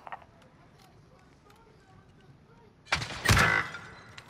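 A sudden burst of gunfire in a squad battle royale video game, loud rapid shots crowding in after a quiet stretch with faint voices talking.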